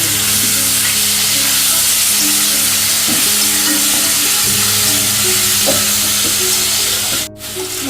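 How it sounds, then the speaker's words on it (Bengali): Spiced pointed gourd curry with yogurt being stirred and sautéed in a pan, a steady close sizzle running throughout with occasional scrapes of a spoon, no talking. "এখন আমি এটাকে ভালো করে একটু নেড়ে চেড়ে কষিয়ে দেবো"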